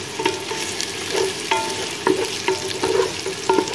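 Onions frying in a pot for chicken pulao, a steady close sizzle broken by regular scraping strokes of a stirring spoon, several distinct strokes over a few seconds.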